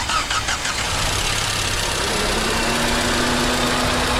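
A Volkswagen Vento's four-cylinder car engine cranks briefly, then catches and settles into a steady, loud idle hum nearby.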